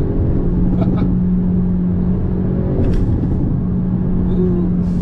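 A Hyundai Avante N engine rumbles steadily at idle in N mode with a deep, droning exhaust tone and a few faint mechanical clicks, heard close and without talk.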